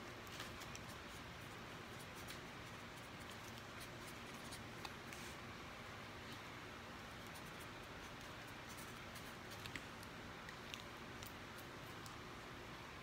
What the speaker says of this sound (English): I'm going to go ahead and write the man's name here